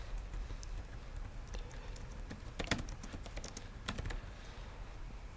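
Fingers type steadily on a computer keyboard, a quiet close run of rapid clicking keystrokes with a few louder taps, and no talk over it.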